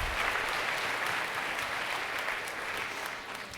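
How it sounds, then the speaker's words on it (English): Audience applause at a school district's annual state-of-the-schools event, a steady dense wash of clapping that holds evenly throughout and eases only slightly toward the end, with no voices over it. "First, you can applaud that."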